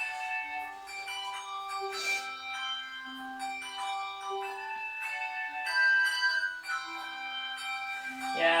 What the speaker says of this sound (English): I'll see if I can get us some more bells